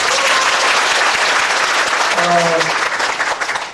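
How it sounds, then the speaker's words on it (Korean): A church congregation gives loud, dense applause at a parents' seminar, sustained clapping that fills the space, with a brief voice heard through it near the end. "박수."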